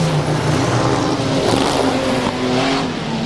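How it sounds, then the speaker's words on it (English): A super modified race car with a big Chevy engine roars steadily nearby at a speedway, a loud, continuous throaty drone with shifting engine tones and no speech. "It's a big, heavy, cumbersome car with lots of power. Runs a big Chevy engine under the bonnet."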